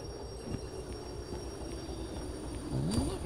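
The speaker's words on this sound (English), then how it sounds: "Just about stopped in time" Train braking to a stop in the Derail Valley video game, a low rumbling run with a rising brake squeal near the end and no talking.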